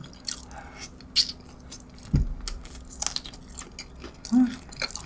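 Someone chews crispy McDonald's McWing chicken wings up close, scattered crunchy bites and wet mastication sounds spaced irregularly, with a few sharp crunches standing out against a quiet room.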